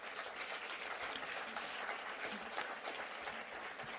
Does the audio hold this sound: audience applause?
yes